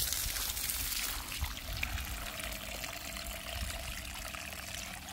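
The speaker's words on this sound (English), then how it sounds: "before applying the chicken manure, I usually water." Water trickles and pours steadily while cabbage crops are watered in a garden, a close, continuous splashing flow with no talk.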